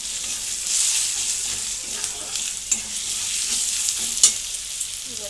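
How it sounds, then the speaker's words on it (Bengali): Spice paste of ground cumin and green chillies frying and being stirred in a pan for ghugni, a steady close sizzle with scraping stirs and occasional sharp clinks, no voices. "তো মশলাটা একটু ভেজে নিয়ে"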